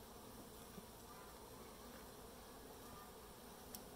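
Honeybees hum steadily around an open backyard hive as a frame is pulled out, a low, even insect drone filling the whole stretch with no speech over it.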